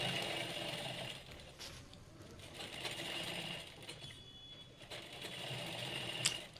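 A sewing machine steadily stitching plazo pant panels together, a continuous close whirring run with slight changes in pace and no talk.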